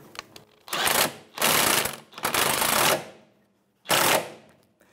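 Ratchet wrench snugging a sway bar link nut on a 2009–2014 Nissan Maxima, heard as four loud bursts of rapid clicking separated by short pauses, close up with no talk.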